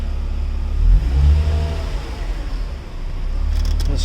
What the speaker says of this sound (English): So the car will start.